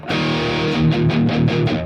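Electric guitar with light reverb, played through an Xvive audio interface: a sustained, slightly distorted chordal passage with several strummed attacks in the second half, alone and fairly loud.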